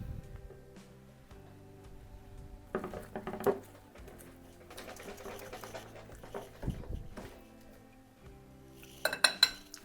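Protein donut batter of Greek yogurt, sugar-free syrup and water is stirred in a bowl, with intermittent clinks and scrapes of a utensil against the bowl, quiet between bursts and sharper knocks near the end.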